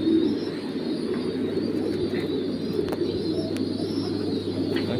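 Caged French pigeons coo softly and continuously in a loft over a low steady background hum, with occasional faint chirps and no talking.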